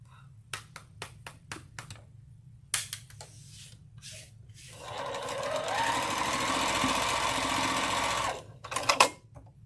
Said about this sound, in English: I think all we got to do is sew them together.